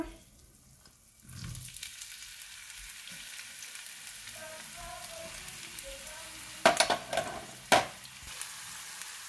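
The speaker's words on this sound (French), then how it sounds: "je vais verser mon huile d'olive, un petit peu d'huile d'olive et mes oignons, persil" Onions and parsley hit a little olive oil in a pan, raising a steady, moderate sizzle that builds after a quiet start, with a few sharp utensil clanks near the end.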